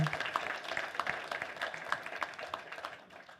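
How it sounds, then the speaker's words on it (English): Brief applause from a convention audience at a furry convention's closing ceremonies for panelists, moderately distant clapping with distinct individual claps, fading slightly toward the end. "a round of applause for all the panelists that volunteered their time to entertain and educate"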